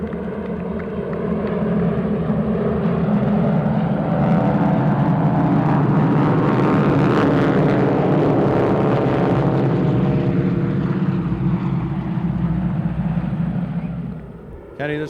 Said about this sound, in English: this time the Harvard AT-6 SNJ flight is going to come around and do their brake to land